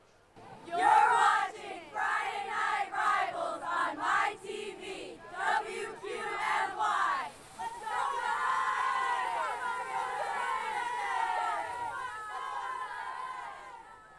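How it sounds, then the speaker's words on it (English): Cheerleaders lead rhythmic, chanted cheers with a crowd joining in at a night high school football game between Scranton Prep and Scranton, followed by a broad wash of crowd noise and chatter in the stands. "Scranton cheerleaders doing a nice job tonight, cheering on their fans."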